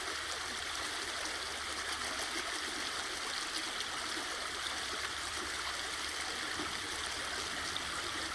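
A steady, close stream flows with continuous broadband rushing and trickling water, even in level throughout and with no speech.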